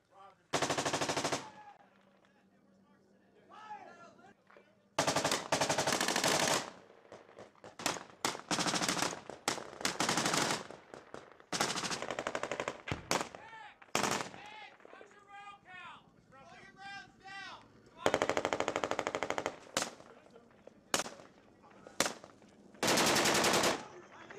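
Bursts of machine gun fire ring out during a firefight in Sangin, Afghanistan. They come in loud, sharp volleys separated by pauses, with shouted voices between and over the shooting.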